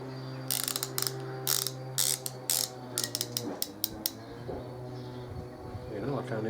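A hand ratchet tightens the pulley bolts on a 2005 Harley-Davidson Electra Glide during swingarm bearing work, giving quick runs of crisp clicking with short pauses between the strokes, close and clear over a steady low hum.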